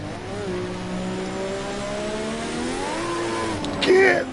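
A turbocharged car's engine hums and climbs steadily in pitch as it accelerates, ending in a short squeal. A voice talks faintly under the engine.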